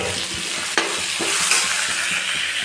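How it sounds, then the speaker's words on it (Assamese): Broiler chicken meat frying in a pan while being stirred, a steady loud sizzle with scraping stirs and a sharp clank early on, no voices. "মাংসটো ফ্ৰাই প্ৰায় হৈ গৈছে"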